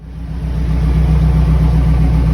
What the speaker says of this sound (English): give you guys a startup so you can hear that exhaust